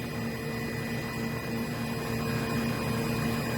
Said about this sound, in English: You got your blower, and then your vacuum pump